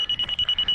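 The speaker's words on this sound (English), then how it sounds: "it should start beeping" Electronic test device built around an nRF24L01 radio module emitting rapid, evenly spaced high-pitched beeps, about eight short pulses in under a second, close and clear with no talk.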